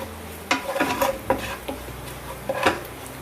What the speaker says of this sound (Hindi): तो इसको भी हम हल्के हल्के हाथ से भून लेंगे हम